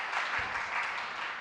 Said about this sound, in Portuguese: Palmas calorosas